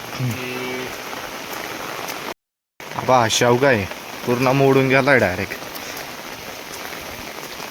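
Heavy monsoon rain pours steadily on a Maharashtra farm where trees have been knocked down, a dense unbroken hiss running beneath someone speaking in Marathi, with one brief cut in the middle.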